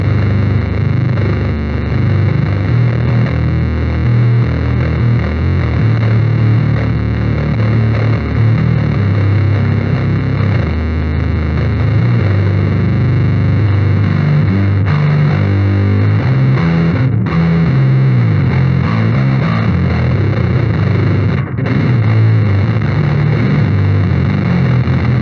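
Bass guitar played through an R.Attack Little Bear distortion pedal cranked high, giving a thick, fuzzy, heavily saturated tone with very low bass that rings loudly and steadily for a long stretch with no talking.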